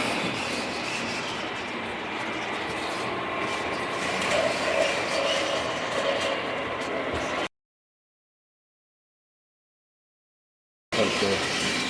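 A Lionel model train runs along a home layout with a steady rolling rumble and light track clatter, dropping out completely for a few seconds before resuming.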